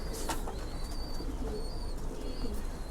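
Pigeons coo softly inside a loft, low murmuring calls blending into a constant busy background hum with no one speaking.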